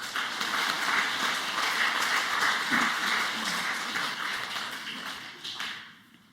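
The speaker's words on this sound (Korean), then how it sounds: "축복하고 격려하는 박수 다시 하겠습니다" Church congregation applauding the Hallelujah choir and worship team at a Sunday service, a dense steady wash of many hands clapping that fades out at the end.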